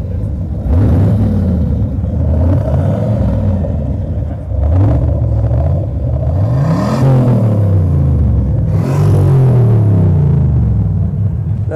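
A deep, loud 426 V8 in a Chrysler 300S revs repeatedly, rising and falling in throaty bursts with a rumbling idle between them.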